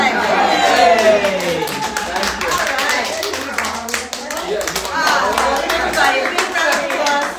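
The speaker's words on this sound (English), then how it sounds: "a big round of applause" Steady clapping from a group fills the scene, with excited voices calling out over the applause.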